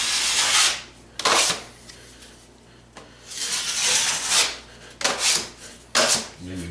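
A drywall trowel scrapes joint compound across a wall in a DIY job, making harsh rasping strokes in repeated bursts, loud and close, with short pauses between passes.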